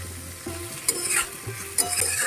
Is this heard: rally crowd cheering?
no